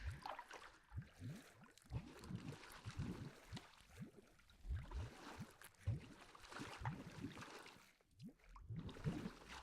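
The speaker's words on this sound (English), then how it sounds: "You guys hear the bubbling?" Bubbling water in a dungeon scene of a Dungeons & Dragons tabletop game, a faint, continuous gurgling and glugging with irregular bubbles popping close by, quiet and steady with no voices over it.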